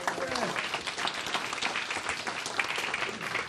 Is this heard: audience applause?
yes